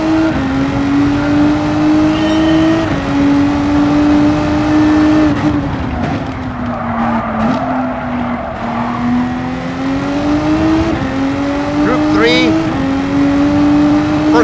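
A Renault RS01 GT3 race car engine in Gran Turismo 7 drones loudly and steadily, its pitch rising and dipping through gear changes, while someone talks over it.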